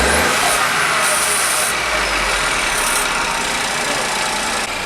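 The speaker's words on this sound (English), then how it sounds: "start it up and see what happens" A Ford Fiesta EcoBoost engine fitted with a blow off valve runs loud and steady at close range, a constant engine roar with high whining tones, and no talking.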